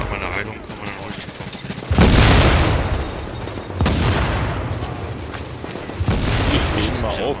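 Gunfire and grenade explosions ring out during video game combat, with three loud broadband blasts and crackling shots rolling through the scene while voices talk underneath.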